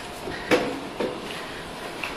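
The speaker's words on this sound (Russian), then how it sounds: "Тяжелая дверь" A heavy door at a shopping centre is pushed open, giving a couple of sharp thuds and clunks about half a second apart, followed by a softer knock against quiet indoor background noise.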